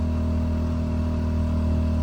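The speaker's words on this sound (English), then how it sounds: "eco mode, well, it's revving up because it's charging this thing" An AiVolt 1600 generator engine running in eco mode revs up under a charging load, giving a loud, steady, close-up droning hum with a faint clatter throughout.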